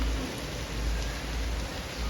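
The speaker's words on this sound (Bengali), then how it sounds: "অনেক সুন্দর একটা বৃষ্টি হচ্ছে ঘুরে ঘুরে" Steady heavy rain pours down in a dense, continuous hiss with low rumbling underneath, no voices.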